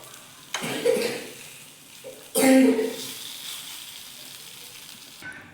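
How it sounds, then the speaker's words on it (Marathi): Pumpkin appe frying in an appe pan, with soft sizzling and two louder hissing bursts as the pieces are turned, fairly close. "आता आपण दुसऱ्या बाजूने पण बघा व्यवस्थित भाजून घेऊयात"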